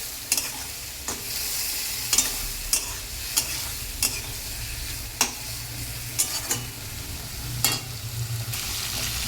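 Bitter gourd and potato fry in oil with mustard and green chili paste, crackling steadily while a spatula scrapes the pan in repeated strokes.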